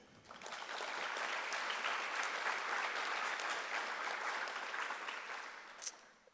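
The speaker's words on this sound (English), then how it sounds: "you all deserve a round of applause for that" Audience applause for retirees at an employee recognition night, rising quickly into sustained clapping that holds steady, then fades near the end, heard somewhat distant.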